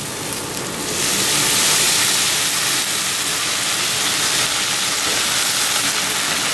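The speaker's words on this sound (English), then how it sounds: "We have some chicken broth, because we want to steam this." Chicken broth hisses and steams on a hot griddle top beside white wine, a steady, loud, rain-like sizzle that swells after the first second and holds on without talk.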